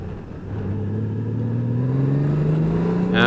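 The engine of a 2018 Honda Gold Wing motorcycle in sport mode hums loud and close, its pitch climbing steadily as it accelerates through the revs, with no talking.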